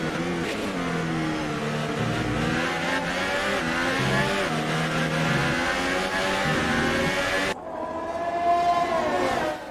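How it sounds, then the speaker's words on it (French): Formula 1 cars racing in the F1 2018 video game: engines whine and shift pitch continuously as cars run close together, with a sharp cut near the end to a different, higher engine note, no speech. "La voiture de Max Verstappen toujours bloquée derrière la deuxième et des Williams"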